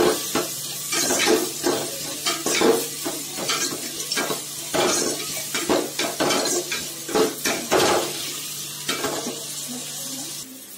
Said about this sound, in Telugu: బ్రౌన్ కలర్ వచ్చేంత వరకు బాగా వేయించుకోవాలి